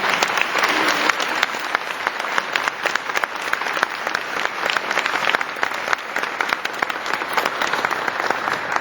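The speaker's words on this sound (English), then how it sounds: "Let's have a round of applause." A graduation ceremony audience gives sustained, dense applause that stays loud and even from start to finish, with many hands clapping together in a large room.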